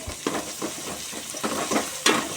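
A spoon stirs mint and coriander leaves into a sizzling mushroom biryani masala, giving irregular scrapes and clinks against the pan over a steady frying hiss, close by.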